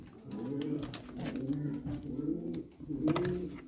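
Homing pigeons coo in a loft in soft, low repeated phrases close by, several calls overlapping in a steady rhythm.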